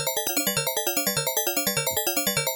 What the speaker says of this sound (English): another one of those bells, which is the same thing every time, just sine wave with a bunch of harmonics